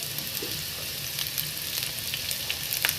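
Garlic sizzles in a hot pan with ginger and onions for chicken tinola, a steady close frying hiss with small crackles and pops throughout and no voices.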